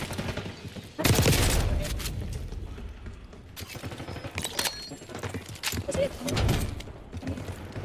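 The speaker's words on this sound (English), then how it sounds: "Had to be a shotgun." Shotgun blasts in a Call of Duty multiplayer Hardpoint match, several loud booming shots among scattered gunfire, with players talking over the action.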